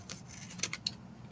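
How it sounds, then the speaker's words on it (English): Scissors snip planner paper in a few quick, faint cuts, each a short crisp crunch, heard close up in a quiet room. "let me cut this first"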